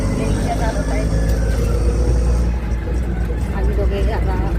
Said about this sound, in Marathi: ते माझे मिस्टर रिक्षा चालवत आहेत